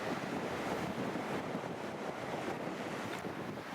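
Wind buffets the microphone on a sea wall at Bradwell-on-Sea, Essex, in a steady rushing roar with faint surf beneath it and nothing else distinct.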